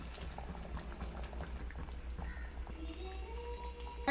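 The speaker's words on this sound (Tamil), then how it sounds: "புளி தண்ணி ஊற்றிப்போம்" Quiet bubbling in a pot of crab curry with a trickle of tamarind water being poured in, rising in pitch as it fills, with a louder splash at the end.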